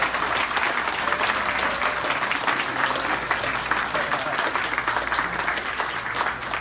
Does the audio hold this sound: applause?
yes